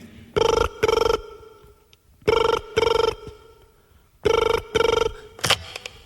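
A telephone rings in three double bursts, each pair of electronic bell trills separated by short silences, clear and fairly close with no talking.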